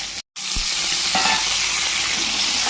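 Potatoes frying in oil with salt, turmeric and panch phoron in a wok: a steady, bright sizzle broken by a brief dropout near the start, then a few stirring clunks under the continuous hiss.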